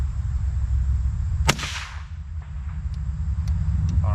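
An AR-7 survival rifle fires a single sharp, loud crack followed by a brief decaying echo, then quieter handling clicks under a steady outdoor background hum.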